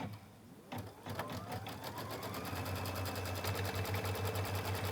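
An embroidery machine stitches a design into quilt fabric, a rapid continuous mechanical chatter with a humming motor, starting after a brief quieter moment and running steadily at close range.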